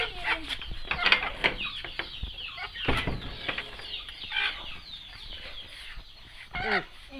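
Village chickens cluck steadily nearby, with irregular bursts of louder squawks and a brief flutter of wings amid the chatter.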